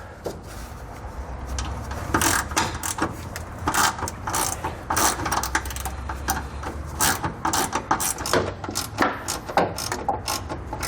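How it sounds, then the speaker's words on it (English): A ratchet with an adjustable head and a 13mm socket backs out heat shield bolts under a 2021 Chevrolet, giving rapid bursts of close, dry clicking with short pauses between strokes. "We'll remove these using the same 13mm socket as before"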